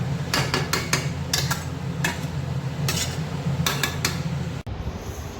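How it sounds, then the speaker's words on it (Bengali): Goat mutton is stirred and fried with spices in a pot, a metal spoon scraping and clinking against the pot in repeated bursts over a steady sizzle, then a brief dropout near the end. "এবার মাংসটা ভালো করে কষতে হবে"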